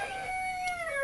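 A rooster on a homestead crows once at a distance, a faint, drawn-out tonal call that bends downward at its end.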